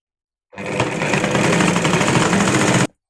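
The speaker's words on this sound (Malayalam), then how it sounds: "സ്റ്റിച്ച് ചെയ്യാം" Sewing machine running continuously while stitching a saree blouse with a 2-inch seam allowance, a fast steady mechanical whirr close up that starts abruptly and stops after about two seconds, with no talking.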